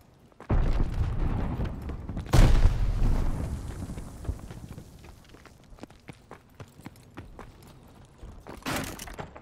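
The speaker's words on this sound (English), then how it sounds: "throwing grenade!" Grenade blasts in Call of Duty Vanguard multiplayer on the Gavutu map, with a heavy boom and a second loud explosion, plus rumbling battle noise and running between them.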